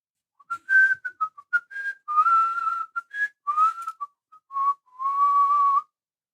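A man whistles a cheerful, wandering tune in a luthier's workshop where custom guitars are built, with clear close notes in short phrases and a few longer held tones.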